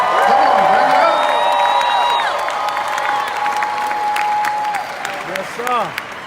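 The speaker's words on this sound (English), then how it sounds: "Give China a round of applause." An audience at a motivational speaking event gives a sustained round of applause with some crowd noise, while a voice talks through it and pitched sliding tones sound over the top.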